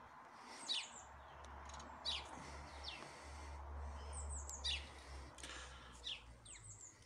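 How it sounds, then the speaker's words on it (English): Sparrows chirping in a buddleia bush outdoors, several bright short chirps and tweets scattered in loose bursts over a low rumbling background, moderately close and without any talking. "There's the sparrows on the buddleia at the moment."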